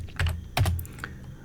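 Fast typing on a computer keyboard followed by a firmer press of the enter key: two short bursts of clicky keystrokes, close and clear, with no one speaking.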